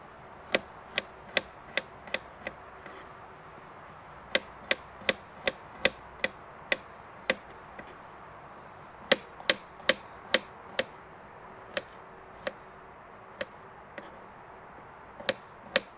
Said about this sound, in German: Knoblauch werden noch ein bisschen schneiden.